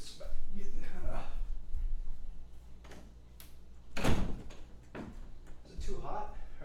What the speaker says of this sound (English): I have to go close my door real quick